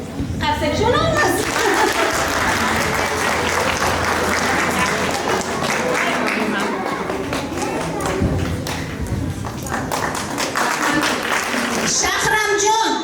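Applause from an audience at a school alphabet celebration, steady and dense for the whole stretch, with voices and some thumps mixed in and a burst of claps near the end.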